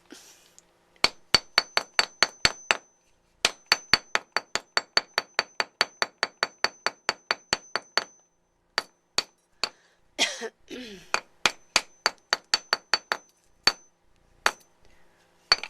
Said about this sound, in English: it makes gluing easier if you hammer it flat